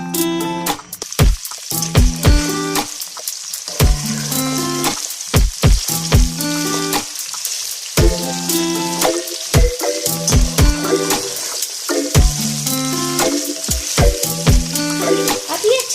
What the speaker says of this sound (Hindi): हम इसको अच्छे से फ्राई करेंगे।